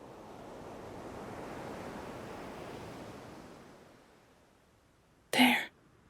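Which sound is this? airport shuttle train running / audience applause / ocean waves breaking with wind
ocean waves breaking with wind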